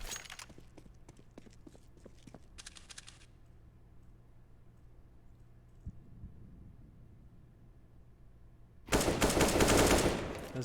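A burst of AK rifle fire erupts loudly near the end of a quiet stretch in a competitive video game match, preceded by faint distant pops and footstep-like taps.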